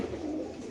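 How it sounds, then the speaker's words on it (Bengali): A red checker racer pigeon coos softly and close by, a low continuous murmur lasting under a second with no one talking. "মাদি গো একটা মাদি কবুতর"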